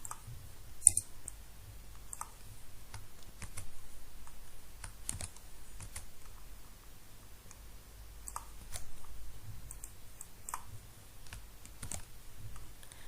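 Computer keyboard typing of a user ID and password with mouse clicks, a quiet series of irregular close taps and clicks spread across the stretch, with no talking.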